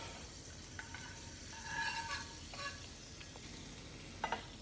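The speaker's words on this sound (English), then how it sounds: "we're gonna take our unsalted butter on the pan for a little bit" Unsalted butter sizzles in a hot skillet, a soft steady frying hiss close by, with light scraping as a knife swirls it around the pan.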